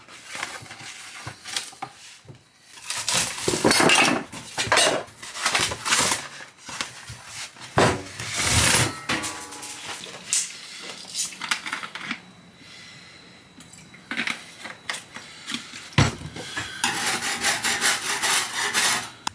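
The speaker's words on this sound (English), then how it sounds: "So I'm just going to rip this apart and I'm going to cut it into strips." A glued cover being ripped apart and cut into strips, with close scraping, tearing and cutting bursts of uneven length and short gaps between them, and no talking.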